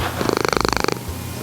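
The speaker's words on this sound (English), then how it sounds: "that's some good purring." A domestic cat purrs close to the listener in a fast, rhythmic rattle of about twenty pulses, loud and buzzy, then fades into quiet.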